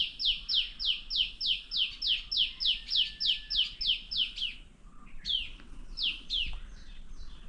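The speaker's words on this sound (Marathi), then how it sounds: "पक्षी बिक्षी का मस्त ओरडतात ते सकाळी" Wild birds sing in the morning in a green Konkan village, a quick run of about a dozen short bright chirps repeated in steady rhythm, then a few scattered calls, close and clear with no talking.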